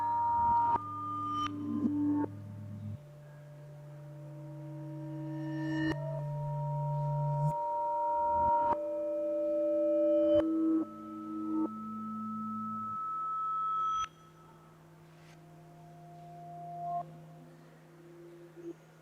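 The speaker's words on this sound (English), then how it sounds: "So what you just heard were the inverted sounds of the gamelan." Gamelan tones played backwards, each ringing pitch swelling up from silence and cutting off abruptly, layered in slow overlapping swells with clear metallic partials.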